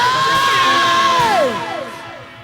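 A concert crowd at a live band show in Alangalang, Leyte cheers and whoops loudly for a couple of seconds, then the shouting tails off.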